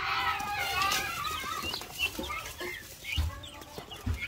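Newly hatched native chicks and chickens clucking and peeping at close range, with busy overlapping calls, a few louder thumps and a faint voice in the background.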